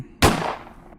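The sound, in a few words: gunshot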